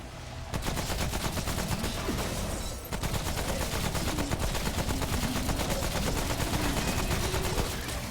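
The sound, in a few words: gunfire from a weapon in the video game Remnant: From the Ashes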